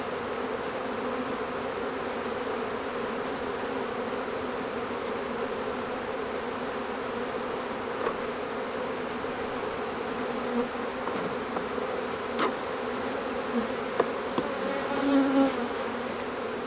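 Steady, dense buzzing of many honey bees from a rescued colony at a hive, a continuous close hum with a few brief clicks and bumps near the end.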